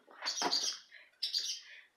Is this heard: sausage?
no